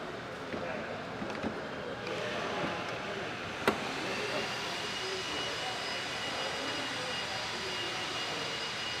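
A Volvo XC90 D5 with a three-litre engine runs at idle, giving a steady, even hum close by. A brief sharp click stands out over the drone, and a person talks over the engine at times.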